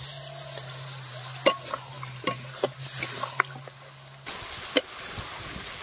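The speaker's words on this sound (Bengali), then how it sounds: "হালকা পরিমাণ জল দিয়ে আলুগুলোকে ভালো করে কষিয়ে নেব।" Potatoes stir-fried with spices and a splash of water in a pan, a low sizzle under repeated spatula scrapes and knocks, with a steady hum running through the first part.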